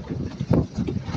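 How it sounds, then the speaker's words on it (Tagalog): Strong wind buffets the microphone in low, rumbling gusts, with a louder blast in the middle, over a constant roar, on an island during a fishing trip. "Lakas ang hangin ito guys."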